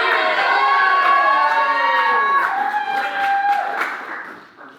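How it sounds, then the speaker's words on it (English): An audience at a roast comedy championship cheers and claps as a round begins, a loud sustained crowd roar with whoops and shouts that fades out at the end. "big round of applause for round 3!"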